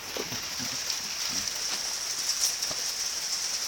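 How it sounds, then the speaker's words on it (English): Rain falls on an outdoor rainy day as a soft, steady hiss, fairly quiet and even, with a few faint low knocks and clicks scattered through the first half and no speech. "such a rainy day today. Woo! Now I'm in the rain."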